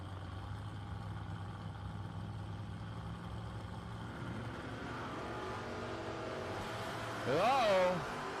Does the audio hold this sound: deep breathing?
no